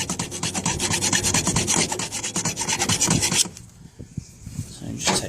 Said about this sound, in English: so just take those two burrs off